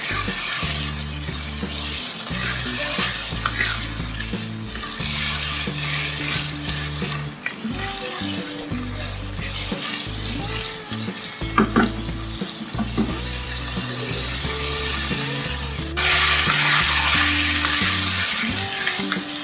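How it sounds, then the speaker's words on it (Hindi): Chicken liver frying with ginger and garlic in a pan for Indian kaleji, a continuous loud sizzle over a low rhythmic droning hum, with a sudden surge in hiss near the end. "अब इसको हम थोड़ा सा फ्राई करेंगे ताकि उसकी स्मेल जो कलेजी की ना वो खत्म हो जाए।"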